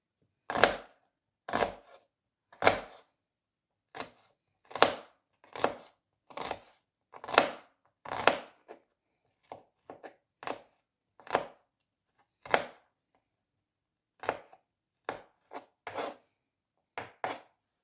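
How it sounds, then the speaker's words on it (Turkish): A knife chops small onions on a board in sharp, close taps, a steady run of single strokes with short pauses, no talking. "Soğanlarımı ufak ufak doğrayacağım."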